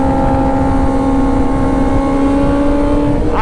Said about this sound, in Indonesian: suara motor saya ini sampai ngeheang-heang kayak gini